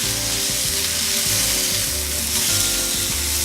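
Burger patties on a griddle, a dense continuous sizzle close and loud throughout, with soft background music and no talking.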